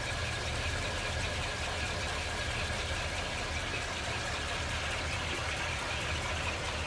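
A 1940 Ford Deluxe convertible's flathead V8 with a single carburetor idles smoothly, a steady low purr with an even faint knock, heard up close and quietly, without voices.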